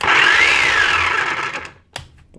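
A Hilti TE905 breaker hammer with a speed control fault spins up after being switched on, giving a loud rising electric motor whine that fades out about a second and a half later, followed by a brief clunk.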